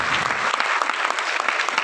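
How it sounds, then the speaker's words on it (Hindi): Steady, close applause from a seminar audience at a success event in Delhi, dense clapping filling the whole stretch with no break. "वाओ ग्रेट सर के लिए एक बार तालियां होनी चाहिए"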